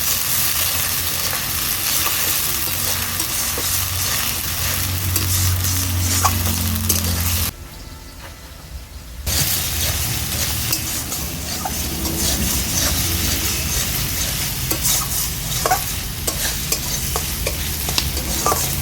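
Onion and ginger paste masala being stirred and fried in a pan, a continuous close sizzle with scraping stirring strokes, broken by a short quieter pause midway before the frying resumes.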